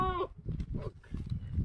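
A goat being milked by a shepherd lets out a short, close bleat at the start, followed by low muffled voices and handling noises.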